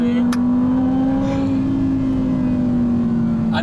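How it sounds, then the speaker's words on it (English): A 2020 Can-Am Maverick X3 Max X RS Turbo RR engine runs up close with a loud, steady droning hum, holding nearly one pitch. "the down revs, the rev matching's badass"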